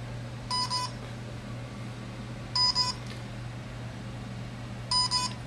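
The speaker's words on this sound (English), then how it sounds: "It's beeping, it's a good sign." Three short electronic beeps from a LEGO Mindstorms NXT robot brick, set off from an iPad, sound at even intervals of about two seconds over a steady low hum.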